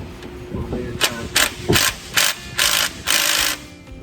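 A hand ratchet loosens engine bolts on an AMC Rambler wagon during a valve stem seal job, giving a series of short, loud clicking bursts in a steady rhythm, close by in a garage.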